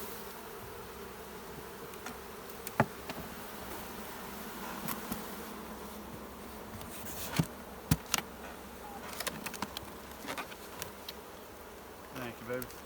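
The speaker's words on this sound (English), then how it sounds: "see all the bees in that box right there?" Honey bees buzzing steadily around an open box during a hive split, a continuous insect drone with scattered clicks and knocks of handling; faint voices come and go in the background.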